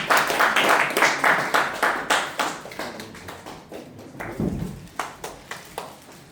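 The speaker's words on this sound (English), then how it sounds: "Give a round of applause for TM Hiren." Audience applauding at a Toastmasters club meeting as TM Hiren is called to the stage to present an award; a steady crowd clapping, fairly close and continuous, with no talk over it.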